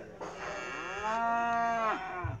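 A cow gives one long, loud, close moo that rises and bends in pitch before trailing off, with no other sound around it.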